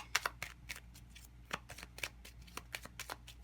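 Tarot cards shuffled close up, a rapid series of crisp riffling flicks and taps in an irregular rhythm over quiet room tone.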